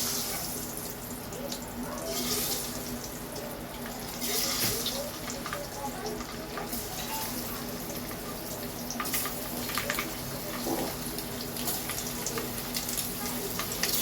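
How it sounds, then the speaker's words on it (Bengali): Eggs frying in a pan for egg korma, a soft, continuous sizzle and crackle with faint watery hiss, quiet and close throughout. "সব ডিম আমি কিন্তু একবারে ভাজতে পারবো না, যতটা পারবো ততটা আমি দিয়ে দিচ্ছি।"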